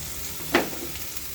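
Spices and chili powder stir-fried in a pan for mustard hilsa, a soft steady sizzle with one brief louder scrape of stirring in the middle, no talk.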